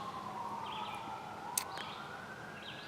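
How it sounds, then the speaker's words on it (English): Emergency vehicle sirens wailing outdoors in the distance, a faint rising and falling tone that continues throughout, with a brief click in the middle. "tons and tons of siren activity here"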